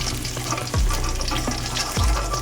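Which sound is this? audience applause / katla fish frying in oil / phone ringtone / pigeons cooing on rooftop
katla fish frying in oil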